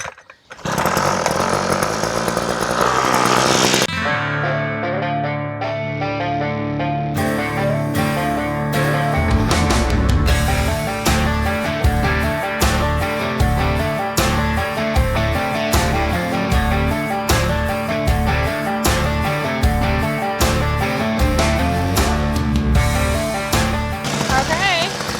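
Heavy powered earth drill boring foundation holes for a tiny house, a loud continuous engine roar with a steady rhythmic pulsing throughout, close by and dominant.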